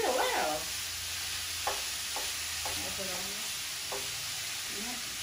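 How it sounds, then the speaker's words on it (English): Meat browning in a skillet on the stove gives a steady broadband sizzle throughout, with a few soft clinks and stirring sounds over the top and no voices. "And so we got the meat cooking."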